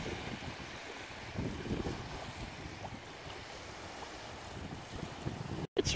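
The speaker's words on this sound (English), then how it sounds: "It's really windy, actually." Steady wind gusting along a lakeshore, a broad rushing roar buffeting the microphone with surges and a brief dropout near the end, no voices.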